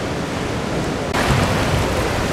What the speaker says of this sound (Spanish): Y miren estas olas, cómo pegan en esas rocas, que viene siendo una especie de rompeolas